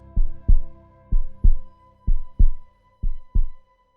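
Four pairs of deep, thumping heartbeats, each a lub-dub double pulse, loud and close with even pauses between them over a faint steady hum, no voices.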